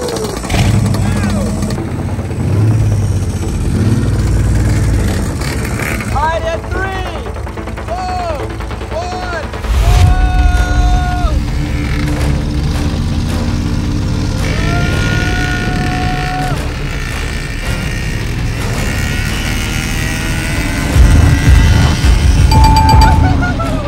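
A large monster truck and an RC monster truck revving and racing, with engine roars and whining motors rising and falling over about twenty seconds, and people talking throughout.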